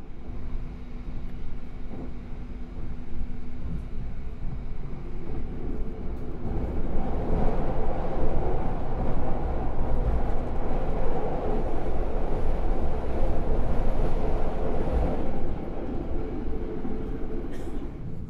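KA Logawa passenger train running at around 120 km/h, a steady rumbling roar of wheels on rails heard from inside the carriage, building in intensity midway and holding without voices.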